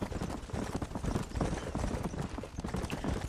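Galloping horse hooves pound steadily in Red Dead Redemption, a dense, loud, unbroken clip-clop rhythm up close with faint game ambience underneath.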